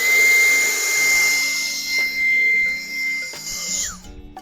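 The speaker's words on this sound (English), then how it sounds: "I'm going to go ahead and just try to vacuum it out." A Dyson vacuum cleaner sucks loose dirt out of an RV air conditioner with a loud steady whine. Its pitch wavers as the nozzle moves, and near the end the motor winds down and cuts out.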